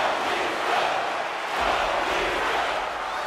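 A hockey arena crowd in NHL 24 during a Stanley Cup playoff game between the Maple Leafs and another team roars steadily, a broad wash of cheering voices with a low thump near the middle.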